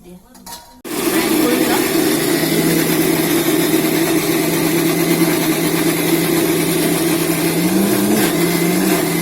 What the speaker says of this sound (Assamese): তো এতিয়া মিক্সাৰ গ্ৰাইণ্ডাৰত গ্ৰাইণ্ড কৰি লওঁ।